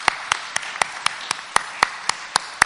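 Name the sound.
church audience applause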